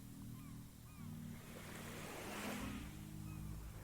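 Ocean waves wash on an island beach of shells, a soft steady surf hiss with a gentle swell in the middle, faint and distant, alongside low rumbling and a few faint high calls.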